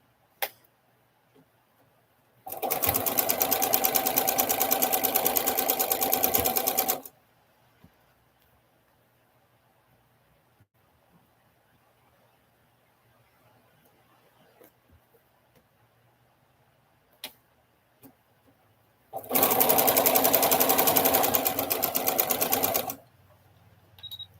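Sewing machine stitching chain-pieced quilt pieces at a scant quarter-inch seam, heard as two loud, steady bursts of rapid stitching, each lasting about four seconds, separated by a long quiet pause.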